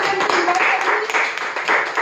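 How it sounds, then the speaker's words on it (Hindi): A training-event audience applauds to welcome Renuka Mistry, continuous close clapping with voices and cheering mixed in throughout. "और बहुत तालियों के साथ"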